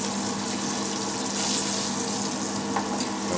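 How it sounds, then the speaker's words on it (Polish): A pork cutlet frying in margarine in a pan, with a steady, dense sizzle and crackle held close and even throughout and no voices. "Margaryna zaczyna skwierczeć."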